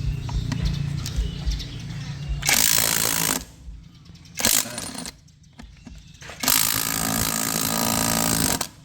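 A THAKITEC electric impact wrench drives a 4-hun bolt until it snaps, making three loud, close hammering bursts: one of about a second, one short, and one long final burst of around two seconds.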